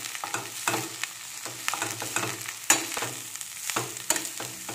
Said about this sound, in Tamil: முட்டைக்கோஸை ஆயிலில் நல்லா ஃப்ரை பண்ணுங்கள்.